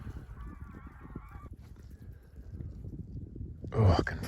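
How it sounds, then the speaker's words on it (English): Geese honk in a flock passing overhead. The calls are faint and distant and sit over low rumbling wind noise, with a louder honk near the end. "there is another flock there I can hear"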